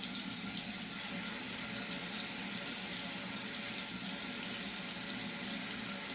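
Tap water runs steadily into a sink while hands are wetted during hair styling, a continuous even splashing hiss with no pauses, close and moderately loud throughout.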